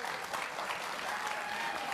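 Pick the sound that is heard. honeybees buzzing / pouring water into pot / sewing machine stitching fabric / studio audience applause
studio audience applause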